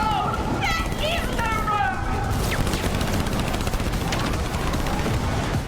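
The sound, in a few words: gunfire from a video game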